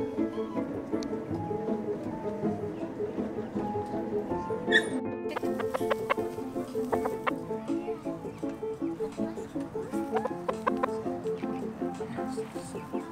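Chickens cluck and chatter at close range on a glamping property on Pender Island, British Columbia, with a rooster-like call briefly rising above the steady clucking.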